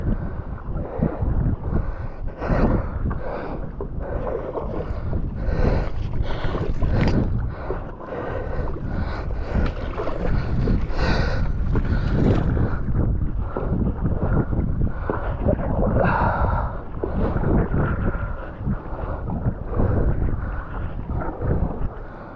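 Gusty wind buffets the microphone out on a boat near Anacortes, a continuous rough roar that surges and dips for over twenty seconds, with faint water and boat noise mixed in and no talking.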